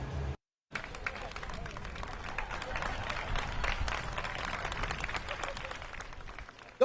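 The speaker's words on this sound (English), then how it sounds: "Don't add the fake applause." Canned sitcom-style applause and crowd noise, a steady wash of clapping that cuts out briefly near the start and then runs on at moderate level.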